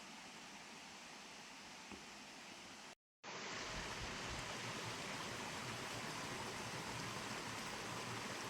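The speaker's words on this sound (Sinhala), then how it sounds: "අපිට කලින් හම්බෙච්ච දිය පාරට පස්සේ අපිට හම්බෙනවා අපෝ දිය පාරක් මේක." Steady, loud broadband rush of a mountain stream beside a hiking trail leading to a waterfall, continuous throughout with one brief dropout near the middle.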